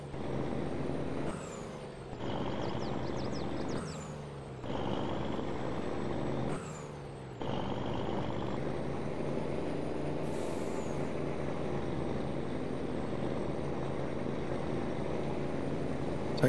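Truck engine drones steadily in Farming Simulator 22, broken by several sharp hissing bursts of air brakes early on and a couple more later, with no talking over it.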